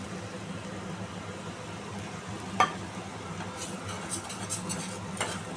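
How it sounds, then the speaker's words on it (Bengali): Masala with ground cashew and poppy seed paste being stirred and fried for stuffed pointed gourd, a low steady sizzle with one sharp clink of a spoon on the pan and soft repeated scraping later. "কাজু আর পোস্তটা দিয়ে ভালো করে কষিয়ে নিতে হবে, যতক্ষণ না মশলাটার কাঁচা গন্ধ চলে যাচ্ছে"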